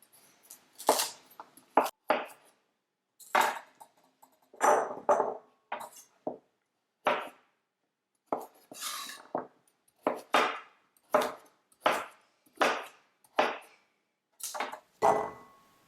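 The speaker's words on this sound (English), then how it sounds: "just chop it into big pieces" A knife chops carrots into big pieces on a cutting board, about a dozen sharp thuds at an uneven pace, each with a brief crunchy edge, close and clear.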